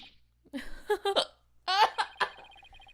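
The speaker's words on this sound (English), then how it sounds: "I have hiccups." Repeated hiccups in a short burst, several sharp voiced catches close to the mic, loud against quiet surroundings, with a faint tonal backdrop near the end.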